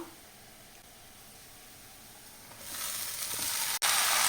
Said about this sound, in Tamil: நல்லா எண்ணெயிலே வதக்கலாம் ரெண்டு நிமிஷத்துக்கு